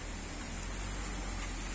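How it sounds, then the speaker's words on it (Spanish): Steady rain falls outdoors on a cold day, a dense, even hiss that stays constant and moderately quiet throughout with no voices. "ya empezó a llover como vieron y hace mucho frío"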